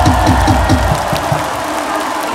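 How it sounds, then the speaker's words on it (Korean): A Hanwha Eagles baseball crowd claps in a quick, even rhythm of sharp beats that fade into general stadium murmur, loud and close against a background of crowd noise. "박수 한번 시작! 박수 두번 시작!"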